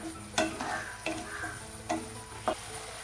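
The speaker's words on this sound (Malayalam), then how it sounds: "ഇനി ഹൈ സ്പീഡിൽ ഇട്ടിട്ട് പാലെല്ലാം വറ്റി വരുന്നത് വരെ, നല്ലതുപോലെ വറ്റി വരുന്നത് വരെ ഇളക്കുക." Carrot halwa stirred in a pan on high heat while the milk reduces, with a soft steady sizzle broken by a few distinct scraping strokes of the spoon, close and moderately loud.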